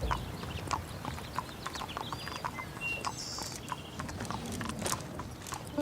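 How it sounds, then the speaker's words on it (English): Hooves of a horse clip-clop steadily in a regular walking rhythm, close and clear, over a continuous outdoor background with some faint bird-like chirps and no talking. "Okay, that's her horse, Arizona."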